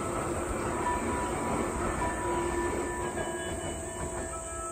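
A train rolls past a playground, its steady rumble of railcars and wheels filling the whole stretch at a constant level, with faint wheel squeal and no talk.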